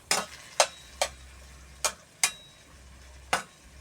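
Chinese sausage frying in a pan of plain water, with a series of sharp sizzling bursts and utensil scrapes arriving unevenly, close and fairly loud, no voices.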